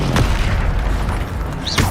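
A Bombarda explosion spell in Hogwarts Legacy goes off as a loud, close boom with a deep rumbling low end that decays over a couple of seconds, followed by a brief whooshing burst.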